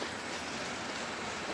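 A southbound Norfolk Southern mixed freight train, led by an ES44DC with an SD40-2 and an HLCX unit, rolls past as a dense, steady roar of wheels and rail noise, close and unbroken.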